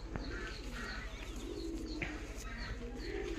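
A female pigeon gives soft, repeated coos, faint and low against a steady background hum, with light chirps from other birds nearby.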